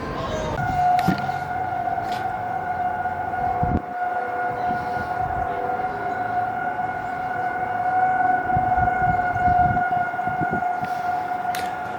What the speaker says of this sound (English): I guess we have storm sirens here.